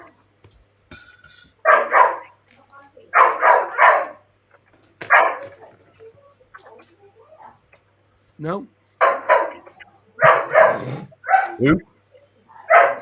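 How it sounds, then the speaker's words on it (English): A dog barks in short, repeated bursts nearby, separated by brief pauses, while people talk casually around it. "Whose dog's that?"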